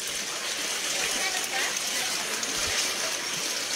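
Flood water pours into a house with a steady, loud rushing gush that does not let up, and a voice talks over it.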